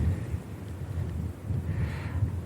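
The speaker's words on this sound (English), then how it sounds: "Oh, you can hear that. That's a puff of wind." A gust of wind moves through tall ash trees outdoors, a steady low broadband rush that swells and eases over a couple of seconds with no voices.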